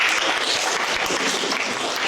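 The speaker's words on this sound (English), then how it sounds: "another applause for the contestants, please" An audience applauds contestants at a speaking competition, a dense, steady wash of many hands clapping at close range, loud and unbroken throughout.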